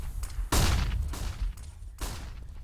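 Grenade explosions in a Counter-Strike match on the Inferno map, with frag grenades and a molotov: three loud, sharp blasts spaced about half a second to a second apart, each with a booming low rumble.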